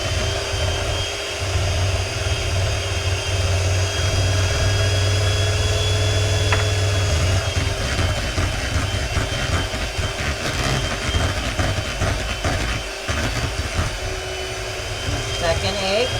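A motorized electric mixer whirs steadily while beating butter and sugar into fluffy chocolate chip cookie dough, a continuous loud drone under a person talking.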